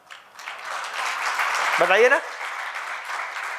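An audience claps through a talk, with a steady wash of applause that swells and fades over a few seconds while a voice speaks over it.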